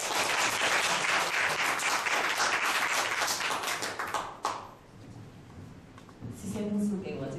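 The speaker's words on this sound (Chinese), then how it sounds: "那拍手欢迎他。" A congregation at a church gathering claps loudly to welcome a speaker. The dense burst of applause lasts several seconds, fades out, and a voice begins talking near the end.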